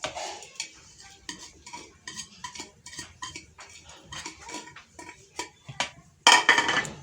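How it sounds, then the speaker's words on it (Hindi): Spoon stirring and mixing a biryani marinade of yogurt, ginger-garlic paste, tomato and spices in a bowl: wet squelching scrapes and light clinks against the dish, close, ending in a louder scraping burst. "इसको सबको करना है मिक्स।"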